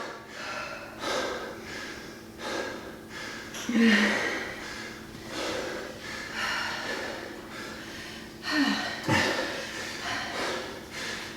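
Heavy breathing after a workout: repeated loud inhales and exhales, some with snorting or gasping edges, come in uneven bursts close to the microphone with no talking.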